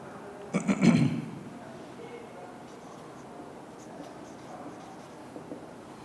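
Pen writing on paper during a school computer class, a short scratchy burst near the start followed by quiet room tone.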